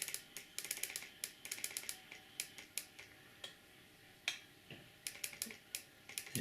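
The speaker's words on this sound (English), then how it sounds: "I should be able to hear a clicking noise coming from this motor" A motor in a JLTRT Class 50 model locomotive ticks with sharp, irregular dry clicks, close and crisp, in quick clusters separated by short pauses, over quiet background hum.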